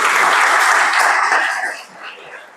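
An audience claps loudly and steadily in a hall, the dense applause holding for about two seconds before it thins and fades.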